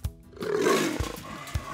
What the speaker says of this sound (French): Ça, c'est le rugissement du jaguar.